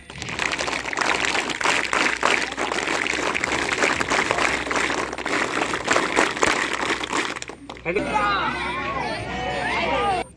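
Schoolboys clapping together at a Constitution Day celebration in a residential school hall: a dense, steady crowd applause for several seconds that cuts off, after which a voice speaks over a quieter room.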